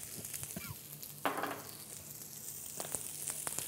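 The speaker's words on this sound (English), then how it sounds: "We're not cooking the cucumbers, we're just flashing them in the pan." Sliced cucumber is flashed in a hot oiled pan, giving a faint, quiet sizzle with brief scraping stirs and a short louder burst of frying, with no talk.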